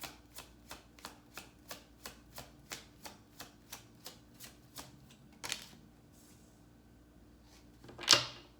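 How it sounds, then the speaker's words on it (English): Tarot cards shuffled in a steady run of crisp riffling bursts, about a dozen evenly spaced, then a pause and a couple of sharper snaps as cards are drawn and laid down, close and quiet. "I want to get 4 more cards and make this spread a little bit bigger."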